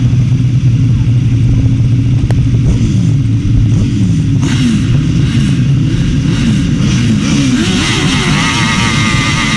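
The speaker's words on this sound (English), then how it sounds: "Revs rise. Tapes fly, and here they come." Grasstrack racing sidecar outfits at a 2004 British Masters semi-final start, engines revving loud and continuous in a dense rising roar, then surging away together as the race begins.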